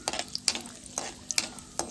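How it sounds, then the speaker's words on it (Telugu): Spices temper in hot oil in a pan for semolina upma, a soft sizzle punctuated by quick scraping stirs of a spoon at an uneven rhythm, fairly quiet and close. "అలాగే కొంచెం రంగు వచ్చేలాగా వేపుకోవాలండి"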